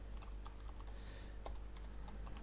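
Keys tapped on a computer keyboard while a search term is entered into a medical literature database, a quiet run of light, irregular clicks over a steady low hum.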